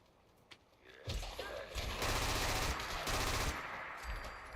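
Rapid bursts of automatic fire from a modded gun in Fallout 4, loud and dense, running for a few seconds after a quiet start before easing off.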